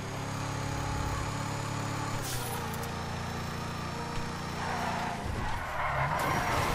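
A Roosevelt car in GTA 5 Online drives with a steady engine drone and tire skids, loud and continuous, with a sharper squeal and shift partway through.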